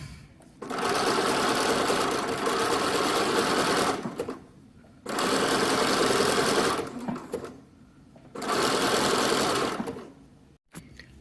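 A sewing machine stitches a caftan neckline in three loud, sustained bursts of whirring separated by short pauses, with a sharp knock at the very end.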